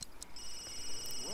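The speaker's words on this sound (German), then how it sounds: "Und da klingt unser Handy" A mobile phone rings in The Sims 3, giving a faint, steady high electronic tone that starts after a brief moment and holds over quiet background game sounds.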